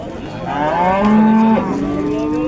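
A single long cow moo at a livestock market, loud and close, swelling in the middle and trailing off with no other sounds around it.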